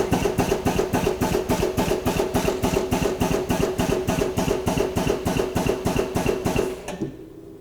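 An ATEX stainless steel power clamp drum tipper runs a rapid, steady mechanical pulsing, like a pneumatic motor, loud and close for about seven seconds before cutting off abruptly into quiet.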